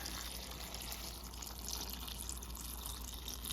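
Steady rushing of water being poured over cranberries in a pot, a continuous close splashing stream with a faint hollow tone, no voices.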